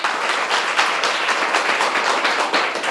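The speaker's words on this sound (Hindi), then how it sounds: "दोबारा इनके लिए तालियां हो" Dense, steady applause from a school audience fills the whole moment, many hands clapping loudly and evenly for a student from a government school in Uttar Pradesh.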